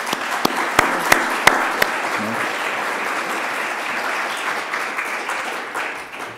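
Warm audience applause at an archaeology lecture welcoming a doctor, a few sharp individual claps at first, then a steady, even wash of clapping that fades slightly toward the end.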